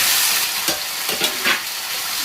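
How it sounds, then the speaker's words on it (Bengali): Boiled potatoes for Kashmiri aloo dum sizzle steadily in hot oil in a pan, with three or four distinct scrapes and clatters of stirring over the hiss and no talk. "এখন দিয়ে দেবো আমি সেদ্ধ করে রাখা আলু"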